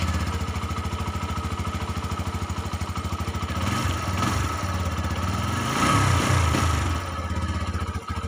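A TVS Apache RTR 160 2V BS6 motorcycle engine idles with a steady, close mid-pitched putter that swells briefly as the throttle is blipped, then settles back to an even idle.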